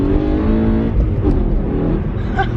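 Blue BMW M5 driving past close by with a loud, steady engine roar that stays strong through the brief pass, without talking.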